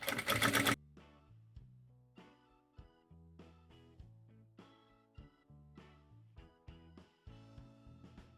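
A sewing machine stitches along the edge of an insulated winter sleeping bag in short whirring runs separated by brief stops, heard up close at a moderate level after a short loud burst of noise at the start.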